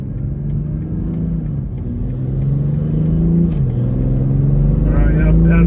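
A 2020 BMW M340i with a charge pipe issue accelerates, its steady engine drone rising in pitch as it builds boost. A brief dip marks a gear change, and a loud cabin rumble underlies it throughout.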